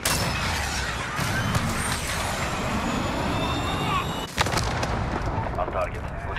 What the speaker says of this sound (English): Calling in a missile.